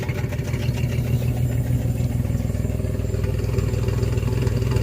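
A Chevrolet S10 Blazer 4x4 idles with a misfire through true dual exhaust, a loud, steady, close engine rumble with an uneven, shaking pulse throughout.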